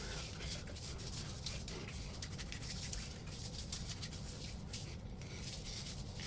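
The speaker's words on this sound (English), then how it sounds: "rub it in with my left hand" Hand rubbing pre-shave oil into a scalp before a head shave makes a soft, steady friction hiss, close and continuous with faint patter, no speech.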